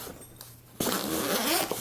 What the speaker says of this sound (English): Really heavy duty zippers.